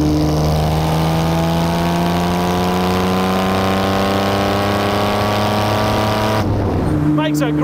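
A Jaguar C-Type replica sports car driving with its engine droning loud and steady from inside, pitch slowly climbing under acceleration before dropping at a gear change near the end, with a voice talking over it.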